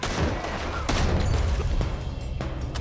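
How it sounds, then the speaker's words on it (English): Gunfire erupts in a Red Dead Redemption 2 shootout, with several sharp shots cracking over a rumbling, noisy background, loud and close. "Looks like we're shooting our way out of here, fellas"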